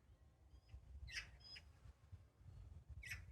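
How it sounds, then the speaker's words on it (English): Faint bird chirps and squawks, a few short calls scattered over a low, quiet background rumble. "I hope you can hear the lovely birds chirping around here."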